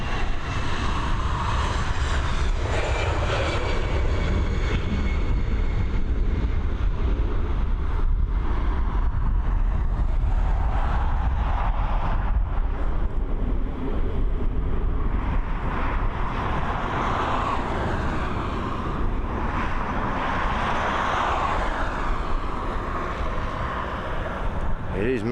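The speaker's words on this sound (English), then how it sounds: "the first flight of tonight's live, this Airbus A320" An Airbus A320 airliner flies over Dublin Airport on a very windy day, its steady broadband jet roar loud and sustained throughout, swelling and easing slightly as it passes, with wind buffeting and faint voices mixed in.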